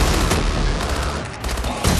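Dense, continuous gunfire from Advanced Warfare Exo Zombies, loud rapid automatic shots layered into a constant roar with a few heavier bursts throughout.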